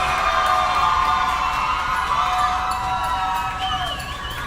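Primary school children cheer and shout loudly for Carnage Boys school at a junior panorama finals event, their excited voices strong at first and then tapering slightly toward the end.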